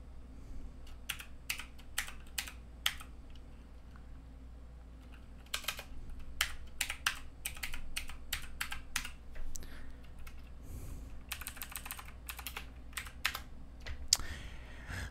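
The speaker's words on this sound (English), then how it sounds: "so you type in crypto trends" Someone types on a computer keyboard in irregular clusters of quiet, crisp key clicks with short pauses between them, over a faint steady hum and no talking.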